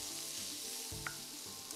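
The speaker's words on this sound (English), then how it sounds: "With just a little bit of oil in the wok, we're going to start by stir-frying some eschalots, garlic and chilli." Shallots, garlic and chilli sizzle and crackle in a little hot oil in a wok, with a steady frying hiss and occasional scraping stirs.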